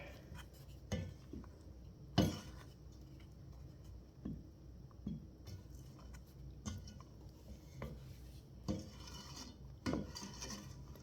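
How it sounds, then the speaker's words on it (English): A spoon stirs a jam mixture with finely chopped walnuts and vanilla in a pot, making soft, quiet scraping and rubbing with occasional light clinks against the pot. "We're going to stir that up."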